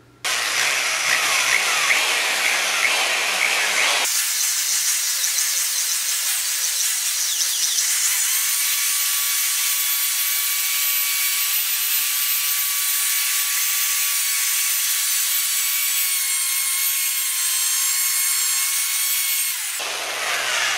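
A car wheel is buffed with a polishing cone on a power drill, a loud steady high whirring grind that runs continuously and close up for most of the stretch, with no talking.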